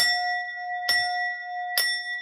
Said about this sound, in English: I like to ring it with my 3 rings of the bell that I have as my sound bowl